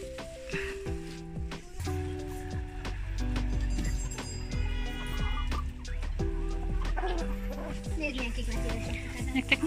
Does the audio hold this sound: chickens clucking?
yes